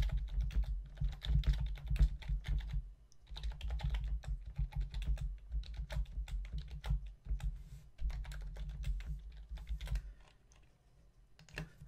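Quick, steady keystrokes on a computer keyboard as checkout and billing details are entered into an online sales page, a close, continuous patter of clicks with a brief pause near the end.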